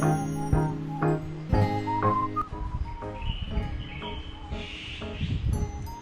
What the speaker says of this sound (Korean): 아 이런 새소리 듣고 막 일어나고 그랬는데